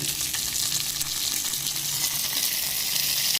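Green chilli, ginger and coriander frying in hot oil for rava idly, a loud, dense, unbroken sizzle heard up close with no voices.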